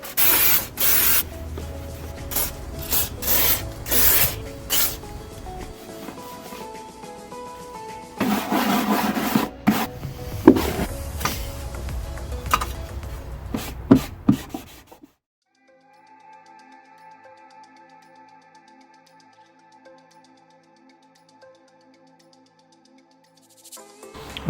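Brake parts are scrubbed with a brush and WD-40 degreaser in a run of rapid, rough scraping and spray bursts for about fifteen seconds, followed by a quiet stretch with faint tonal background hum.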